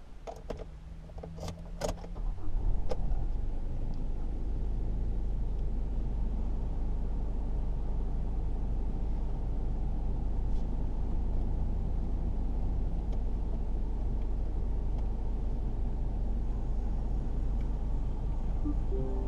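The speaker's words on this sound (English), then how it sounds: "Let's go for a drive." A 2021 Isuzu D-Max dual cab ute on the move, heard from inside the cabin as a steady low road-and-engine rumble, with a few sharp clicks and knocks in the opening seconds before the drone settles.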